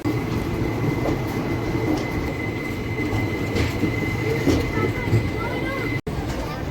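The Meenakshi Express pulls out of Tirupati railway station platform 4, a steady rumble of wheels on rail with a thin sustained squeal and faint clicks, and background voices beneath it.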